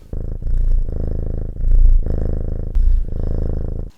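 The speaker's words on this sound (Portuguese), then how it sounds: "os gatos ronronam" A cat purrs close up, loud and rumbling, in rhythmic cycles that swell with each breath, with short pauses between them.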